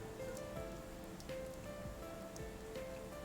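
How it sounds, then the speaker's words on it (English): Rain falls steadily in the video game Persona 4, a soft continuous patter with faint drip-like ticks, alone and fairly quiet under a thin layer of soft tones. "It's raining."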